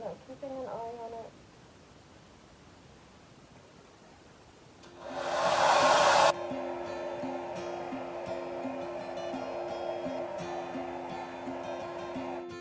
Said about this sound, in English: I thought I'd get a hair dryer and just use it to kill any germs on my bed